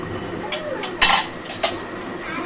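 A metal pressure cooker, just taken off a gas flame after two whistles with ilish fish head and kochu shaag inside, is opened. Clicks and clanks of the lid and utensils come in a few sharp, close metallic knocks over quiet background.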